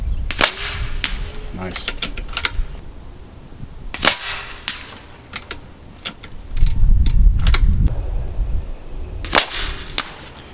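Kalibrgun Cricket airgun firing .253 35-grain slugs at 100 yards outdoors, several sharp cracks spread irregularly across the stretch, with a brief word and some wind rumble between shots.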